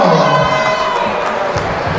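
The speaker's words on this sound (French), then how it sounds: "On applaudit pour elle, on applaudit très fort." A festival crowd at the fourth edition of the ARDBI singing festival cheers and claps loudly for a performer, with children's shouts mixed into the dense, close roar of the audience.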